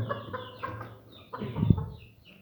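A rooster clucks and calls in short bursts, close and fairly quiet, with no talking.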